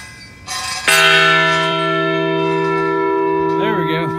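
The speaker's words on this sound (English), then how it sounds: "Guys, we gotta ring the bell." A large bell is struck once, loud and close, its bright metallic tone ringing on and slowly fading, with a faint wobble near the end.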